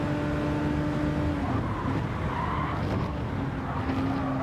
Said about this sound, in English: mistake by the BMW, and into the wall he goes